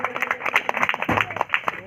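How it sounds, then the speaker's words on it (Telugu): An audience at a Christmas sermon gives a brief burst of scattered hand clapping, close and fairly loud, lasting under two seconds. "గట్టిగా చప్పట్లు కొట్టాం"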